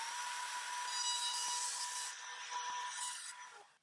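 A 1/4-inch spiral upcut router bit trims the edge of a wood board along a fence, giving a continuous high, airy whine and rushing cut that stays steady for a few seconds, then tapers off, faint and with no talking.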